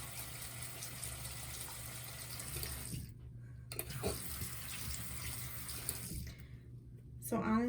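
A makeup brush is rinsed under a running bathroom tap. The faint, steady stream of water breaks off twice, briefly, and then resumes. A short vocal sound comes at the very end.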